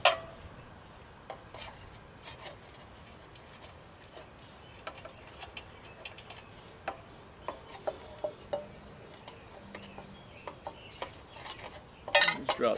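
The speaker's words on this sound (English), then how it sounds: "10mm wrench, take off this little drain plug" 10mm wrench working a small drain plug off a Honda small engine carburetor, giving faint metallic scrapes, ticks and light clinks spread unevenly over quiet background, ending in a brief cluster of louder rattles.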